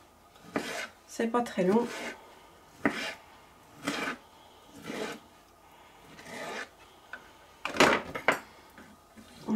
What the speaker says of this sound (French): On va les découper en petites lamelles.